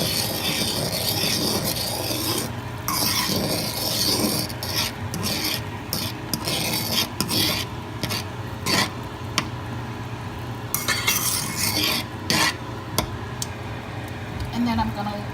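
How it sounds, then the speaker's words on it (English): A spoon stirs paprika into simmering coconut kale soup in a pot, making close, continuous scraping and rasping with scattered clinks against the pan. "So you can add about 1 teaspoon of the paprika in and stir that in."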